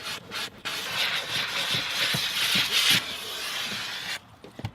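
A towel-wrapped steamer is worked across a car seat with a continuous close rubbing hiss of fabric dragging over upholstery, lasting several seconds before easing off into brief light scuffs.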